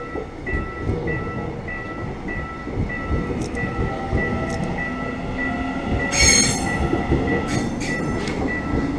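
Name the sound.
Seoul metro train passing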